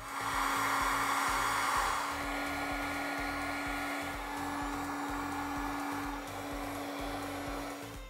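Heat gun blowing a steady, loud stream of hot air while shrinking heat-shrink tubing on LED light wiring for auxiliary pods under the hood of a 2020 Jeep Gladiator Rubicon, continuous for the whole stretch with a slight dip after the start.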